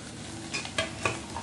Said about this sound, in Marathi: आता आपण टाकतोय कढीपत्ता, अद्रक लसूणची पेस्ट